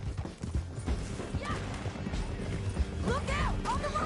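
A horse gallops in Red Dead Redemption 2, steady clip-clop hoofbeats under game music and effects, with a neigh and shouting voices breaking in.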